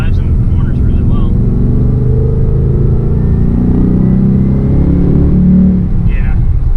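A 2018 Ford Mustang GT engine rumbles loudly and steadily, building toward high RPM with a swelling roar near the end, under continuous talk inside the car.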